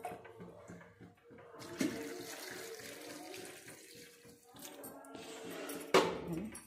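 Hot water splashes and runs while dried fish is washed in a kitchen in Odisha. The sound is steady sloshing and pouring, with louder splashes now and then, and it plays nearby and alone.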